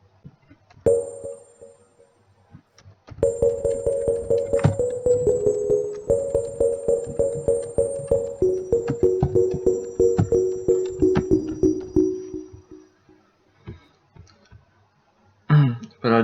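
Synthesized mallet strikes from Ableton Collision, with the noise exciter switched off: a run of short, quickly decaying tuned hits in a steady rhythm, mostly alone. A few sparse clicks lead in, and a brief burst of noise arrives at the end.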